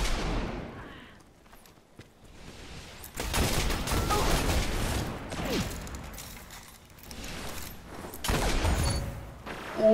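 Hawkmoon hand cannon shots in Destiny 1 multiplayer: several loud, cracking bursts come in irregular clusters between quieter gaps, over mechanical game sounds.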